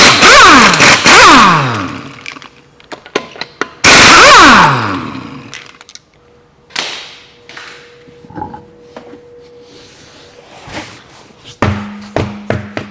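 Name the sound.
wheels being taken off a Kia Sedona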